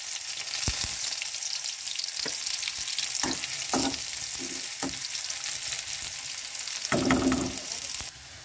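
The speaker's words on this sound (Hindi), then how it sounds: "हम इसमें प्याज डालेंगे। प्याज को भी हमें अच्छे से एकदम ब्राउन करना है।" Onions frying in hot oil until brown for a carrot and pea curry, a steady bright sizzle broken by several scraping strokes of a spoon against the pan, ending abruptly.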